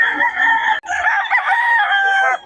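A fighting rooster crows loudly and close by at a market, two long strained calls back to back with a brief break between them.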